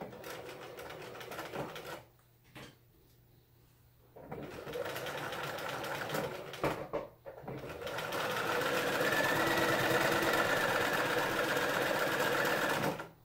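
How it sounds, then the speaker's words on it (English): A domestic sewing machine runs a 5/8 inch seam along a fabric edge for a pencil case, its rapid mechanical stitching starting and stopping in short bursts before a longer, steady run near the end. "we're just going to run a 5/8 inch seam right down that edge"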